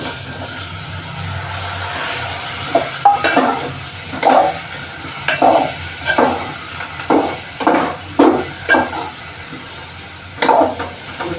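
A spoon stirs turmeric powder and spices through a sizzling pan for potato bhaji made without onion or garlic, with a steady series of scraping, clinking stirs over a soft frying hiss, close and fairly loud.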